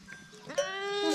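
A goat nursing its kids gives a single drawn-out bleat that wavers and rises in pitch, close and clear over a quiet farmyard.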